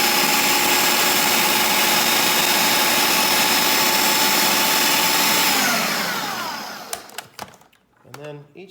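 A food processor whirs loudly and steadily as it chops basil and almonds for pesto, the motor winding down and stopping near the end, followed by a few brief clatters and a voice.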